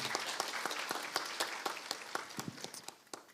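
Steady applause from a crowd at a school entrance ceremony and mass, many hands clapping in a dense, even patter from start to finish, fairly soft and with no voices over it.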